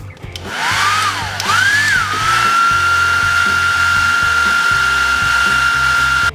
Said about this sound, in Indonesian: Kita coba pakai hair dryer